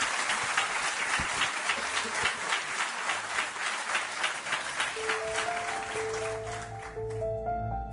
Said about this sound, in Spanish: Os pido un aplauso para ellos antes de seguir adelante.